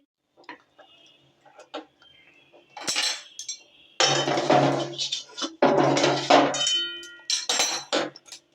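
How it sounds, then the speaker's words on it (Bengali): Palm filling is transferred from a pan into a small bowl with scattered clinks and taps of a spoon on metal, then longer bursts of scraping and knocking in the second half. "এবার আমি একটা পাত্রের মধ্যে ঢেলে নেব"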